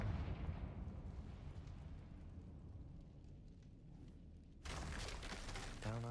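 A Confringo blasting spell explodes in the Hogwarts Legacy video game: a loud, sustained booming rumble that rolls on for several seconds, then a sharper burst of crackling noise near the end.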